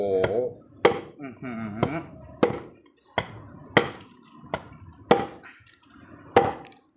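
A parang knife hacks through dry, tough wood at the joints, about nine sharp chops at a steady, irregular pace with short pauses between them, close and crisp.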